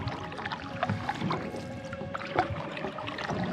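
Canoe paddling on Thomson Lake in the Burnt Island Lake loop, with steady soft water swishes and faint dribbles from paddle strokes close by, over a busy outdoor background.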